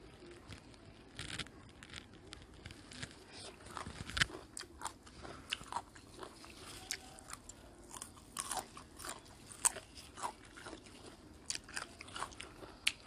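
Crunchy wasabi being bitten and chewed close up, with repeated crisp crunches in an uneven rhythm and no talking.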